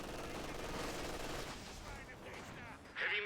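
Heavy machine gun fire in a World War II strategy video game, a dense continuous stream of rapid shots that holds steady before a louder burst near the end.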